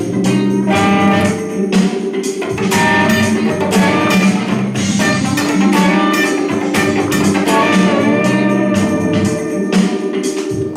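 A guitar rings out a minor 9 chord over a full backing track, the sustained harmony blending with steady drums and bass, loud and continuous with no talking.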